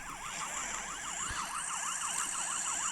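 A police-style emergency siren wails in rapid rising and falling sweeps, steady and continuous, heard at moderate distance with no talking.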